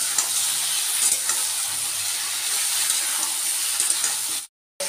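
Carrot pieces and jackfruit seeds fry in a pan for a vegetarian labra, giving a steady close hiss and sizzle with faint stirring scrapes, then a brief cut to silence near the end.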